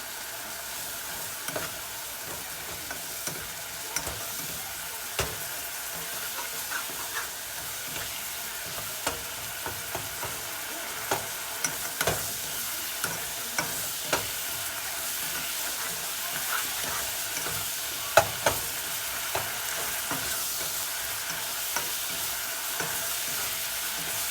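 Ground turkey fries in a pan with oyster sauce, giving a steady sizzle and hiss. A spatula scrapes and taps against the pan at intervals, up close and with no talking.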